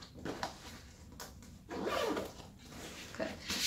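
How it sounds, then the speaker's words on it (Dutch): A plastic zipper on an IKEA Förenkla backpack is pulled in several short, raspy strokes with pauses between them, close and fairly clear. "En dat je hem dus gewoon kan dichtritsen als je het niet nodig hebt."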